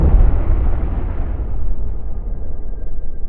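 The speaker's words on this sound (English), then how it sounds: "this was one of the largest non-nuclear explosions in human history, and it completely ripped Beirut apart" The Beirut ammonium nitrate fertilizer explosion heard as a massive deep roaring blast, a loud sustained rumble that slowly fades over a few seconds.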